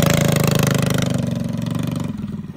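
A Predator 212cc small engine fitted with a Stage 5 head idles close by outdoors in snow, a loud, rapid, even putter that softens slightly toward the end.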